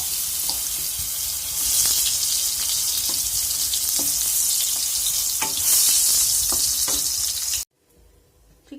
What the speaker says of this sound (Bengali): বেগুনটা ভাজা হচ্ছে, ভাজাতে বসিয়ে দিয়েছি।